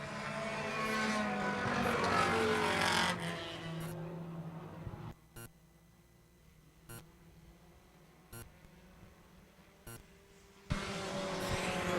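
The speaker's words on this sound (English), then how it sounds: "Dodge takes a shortcut down into turn 3, kicked up a little dirt as Jeff Atherton retakes the third spot" Race cars on a dirt track at Schooner Bay's Taxi Thunder event roar loudly for the first few seconds, then fall to a quieter stretch broken by sharp pops before the engine noise surges back at the end.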